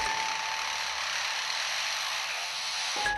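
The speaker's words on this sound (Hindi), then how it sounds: "ड्रिल मशीन की आवाज़" A lyrebird copies the steady whine of a drill machine heard at a zoo construction site, a continuous bright buzzing drone held for about three seconds without a break, close and loud, with no voices.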